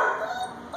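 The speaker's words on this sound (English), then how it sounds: "the puppies are barking" A short yip from a four-week-old puppy, a single quick bark or whimper heard at moderate distance.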